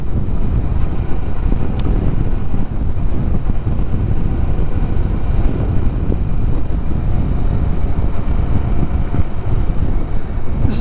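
A Kawasaki Vulcan S motorcycle engine on a demo ride runs loud and steady from start to finish, its droning rumble mixed with heavy wind buffeting and no voices.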